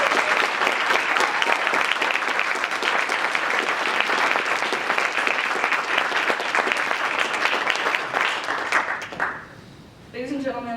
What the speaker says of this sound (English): Let's have one last round of applause for our newest second lieutenant